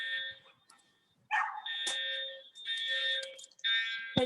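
A fire alarm goes off with loud, piercing electronic bursts repeating in uneven pulses, broken by brief gaps, with a dog barking in between.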